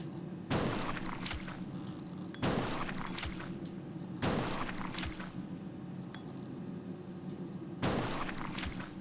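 Gunfire in the survival-horror game Resident Evil Code Veronica: four loud, sharp shots spaced roughly two seconds apart, each with a short booming tail over a steady low background drone.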